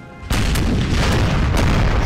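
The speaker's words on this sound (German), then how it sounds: "Da kommen schon die nächsten Schüsse." Gunfire rumbles through a video game battle set around Poland's last stand, a loud, dense barrage of booming shots that starts abruptly and continues without pause, close and heavy like artillery.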